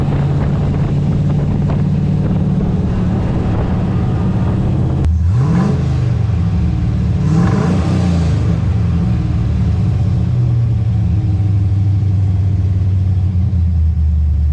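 A steady, low engine rumble from a Nissan 240 idling on and on after dyno tuning, with a brief louder rev or gust partway through, no voices.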